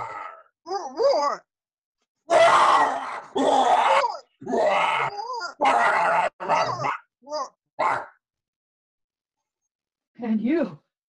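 A voice imitating a lion's roar in a dramatic performance of Shakespeare's A Midsummer Night's Dream: a run of short, growling, drawn-out vocal roars separated by brief pauses.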